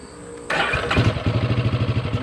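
A 1951 Ford 8N tractor engine cranks and catches at about half a second, then settles into a loud, close, steady rhythmic chugging idle with no talk over it.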